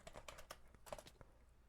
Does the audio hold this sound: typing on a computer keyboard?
yes